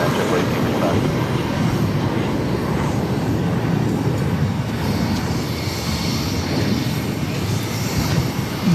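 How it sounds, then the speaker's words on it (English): A Spirit Airlines Airbus A319 taking off at Boston Logan: a continuous, loud broadband jet roar holding steady through the whole stretch, with no pauses. "This is Spirit Airlines 1359 taking off to Orlando on an A319."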